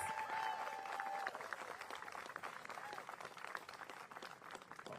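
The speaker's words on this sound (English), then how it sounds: "Let's give them a big round of applause." A crowd at a press event with the DC mayor, backed by hospitals and frontline health workers, claps in sustained, fairly distant applause, with faint voices mixed in.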